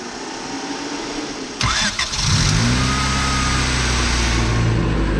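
Supercharged Honda Civic with a D16Y7 engine cranking briefly, then catching and settling into a loud, steady idle close by.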